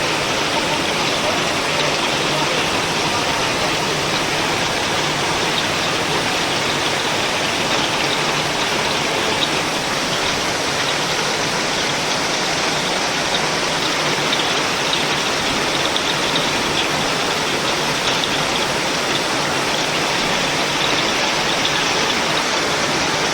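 Heavy rain pours down steadily as a dense, unbroken roar of falling water, close and loud for the whole stretch, with no voices over it.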